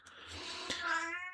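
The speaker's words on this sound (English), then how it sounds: "apologies if you can hear meowing in the background" A cat meows indoors in the background, one drawn-out cry with a rising, wavering tone, fairly faint, with no talking over it.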